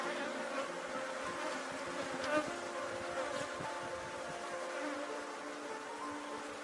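A honeybee swarm buzzes steadily during a hive inspection, a dense continuous hum of many wings close by, with no talk.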